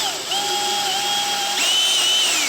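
A power drill bores a small pilot hole into solid epoxy on a sailboat, a high whining spin that steps up in pitch partway through, heard close and alone.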